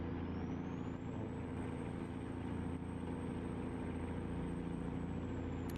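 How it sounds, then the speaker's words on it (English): An American truck engine runs steadily, a loud, continuous rumble with a droning low hum and even texture throughout, no talking. "I love the sound of this truck."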